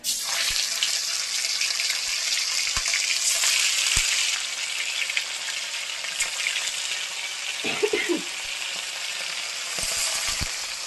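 Battered fish fries in hot oil in a pan, a loud continuous sizzle with crackling bursts and a few sharp clinks of a utensil, with no talk.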